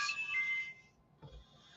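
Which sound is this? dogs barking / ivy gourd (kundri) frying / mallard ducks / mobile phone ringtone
mobile phone ringtone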